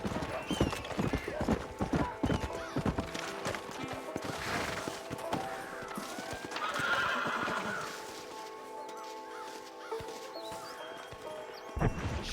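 Galloping horse in Red Dead Redemption, rapid clip-clop hoofbeats pounding steadily up close with a clear neigh partway through, under game ambience.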